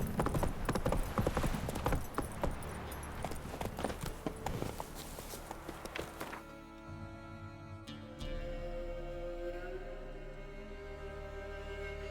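Roach, the horse in The Witcher 3: Wild Hunt, trots with rapid, rhythmic clip-clopping hooves over game music, then the hoofbeats drop away as a sustained musical tone and ambience take over.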